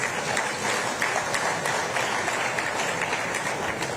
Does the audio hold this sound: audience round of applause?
yes